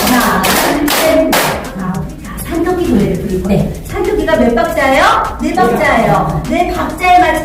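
Hand claps in counted groups during a brain-health cognitive exercise class, sharp bursts alternating with an instructor talking and chanting the count aloud.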